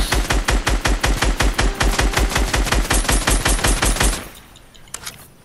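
Rapid automatic gunfire from the video game Fortnite, a loud, steady stream of shots for about four seconds that stops abruptly, leaving quiet game ambience with a few faint sounds.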